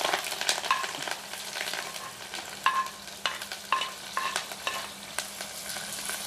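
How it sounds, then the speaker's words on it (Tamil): Onion, green chili and curry leaves tempering in hot oil, with a bright crackling sizzle and repeated ladle stirs and taps against the pan, close and unaccompanied by talk. "முதல்ல வெங்காயம், மிளகாய், கருவேப்பமில்லை போட்டு தாளிப்போம்."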